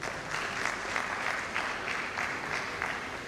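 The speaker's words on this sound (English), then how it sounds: "Please a round of applause for everyone." Conference audience applauds at an international management sciences conference at a university hall, steady dense clapping filling the room at moderate level, with no speech over it.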